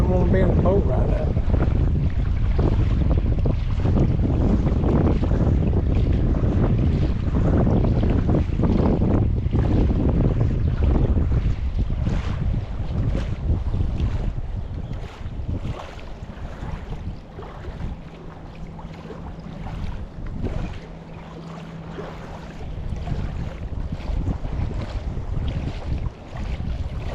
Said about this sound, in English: Talking about strong wind.